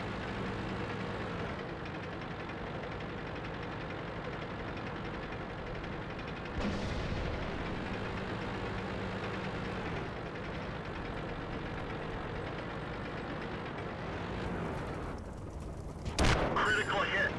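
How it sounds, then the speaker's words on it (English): Cannon shots from a T82 tank destroyer in World of Tanks, a few loud booms standing out over a steady rumble of engine and battle noise, with a sharp burst near the end. "start taking some fast shots on the approaching Hetzer"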